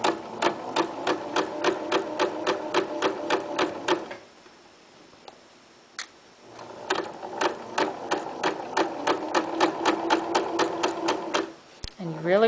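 A sewing machine back stitches a pocket onto fabric in two rapid needle-punching bursts separated by a short quiet pause, with a brief click near the end.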